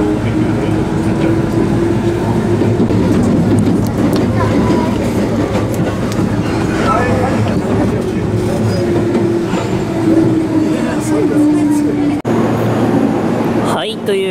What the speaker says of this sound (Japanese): 列車は大正駅を出発。